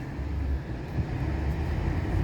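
Snowplow truck engine rumbling steadily up close while plowing snow in a spring snowstorm, a continuous low drone with no talk.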